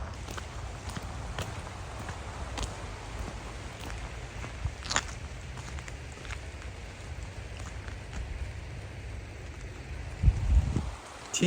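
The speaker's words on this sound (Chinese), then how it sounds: "听一听这个 greenhouse 里边这个雨声， 这个中雨" Moderate rain falling on a greenhouse during wet weather near a lake, a steady dense patter heard from inside that continues evenly throughout, with a few louder thumps near the end.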